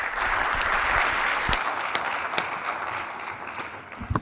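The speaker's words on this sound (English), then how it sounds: "please join me to thank our speakers and give a round of applause for our speakers" Audience applause for the speakers at the close of a demonstration during an international livestreamed conference, a steady wash of clapping from a large crowd that thins slightly toward the end.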